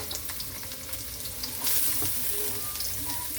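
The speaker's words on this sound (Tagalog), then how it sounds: "ilagay na natin yung ating uh, bawang at saka isabay ko na rin yung sibuyas" Garlic and onion frying in a pan for a Filipino laing dish, a steady close sizzle with faint stirring scrapes that swells louder partway through as the onion goes in, with no talking.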